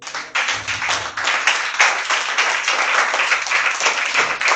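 A church congregation applauds to acclaim the Lord, with loud, continuous clapping from many hands filling the room at a steady, lively pace for several seconds.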